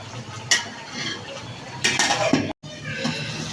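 Chicken curry sautés in a pan with a soft sizzle, broken by a few scraping stirs of a spoon against the metal, heard close and fairly quiet.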